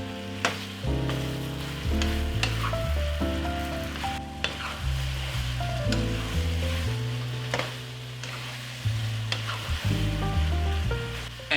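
Beef and broccoli stir-fry sizzles steadily in a hot pan while being stirred, a constant frying crackle that sits under prominent background music.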